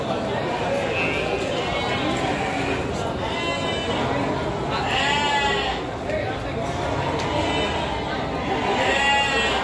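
Several sheep bleat repeatedly at close range at a livestock market in Tanjungsari, Sumedang, their wavering calls rising over steady crowd chatter and nearby voices.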